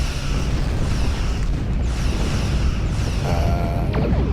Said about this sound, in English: Have some torpedoes.